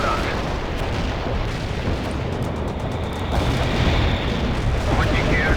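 Artillery barrage in the video game World in Conflict, a dense, continuous roar of blasts rumbling together without pause, loud and close, with a voice speaking over it.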